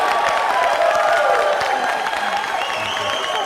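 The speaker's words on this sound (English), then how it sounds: "give her a round of applause" An audience gives a presenter a round of applause, a continuous crowd wash of clapping and murmuring voices, fairly loud and steady through the whole stretch.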